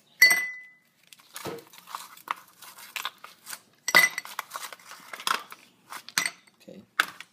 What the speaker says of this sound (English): So you get the shaker here. So you get the ice,